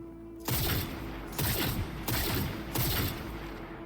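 Four loud, evenly spaced sniper rifle shots boom in quick succession in Cyberpunk 2077, each a sharp crack with a short mechanical tail, over a faint steady hum.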